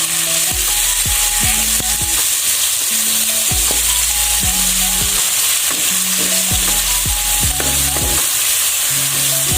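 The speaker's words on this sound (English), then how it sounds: "First, we fry our bumbu." Bumbu spice paste for sweet and spicy ayam kecap frying loudly in a pan, a steady dense sizzle with repeated scraping stirs of a spatula throughout, no voices.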